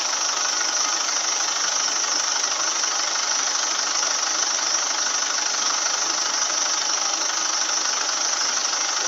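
A Mazda BT50 / Ford Ranger engine with a 5R55S/5R55W automatic transmission idles steadily while the transmission is filled with fluid, a constant, even hum and hiss that stays unchanged throughout.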